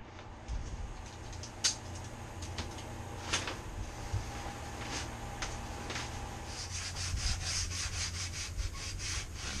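Steady rubbing and scraping of sandpaper on the varnished wooden interior of a small boat, close and continuous, with a low hum underneath and a few sharper scuffs between strokes.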